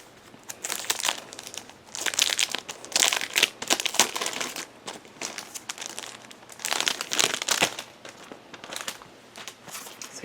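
Crinkly plastic packaging being opened from a planner subscription box: bursts of loud close crinkling and crumpling in waves, with brief pauses between handling, no talk.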